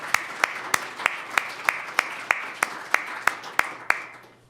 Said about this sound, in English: You want to stand up so we can applaud you?